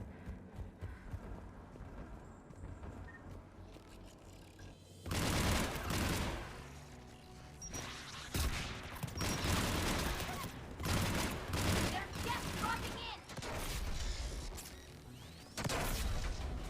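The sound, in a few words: gunfire in the video game Mass Effect 3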